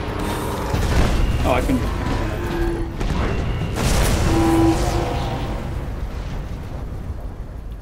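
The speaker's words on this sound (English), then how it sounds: "Today we're delivering explosions." Booming explosions from the video game Destiny: House of Wolves, heavy low rumbles bursting repeatedly over several seconds, loud and close, mixed with game effects and a brief spoken voice.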